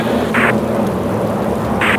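Heavy rain with a low thunder rumble in the combat flight game Flying Tigers: Shadows Over China, a loud continuous wash of rain over a deep rolling roar, with two brief bright bursts.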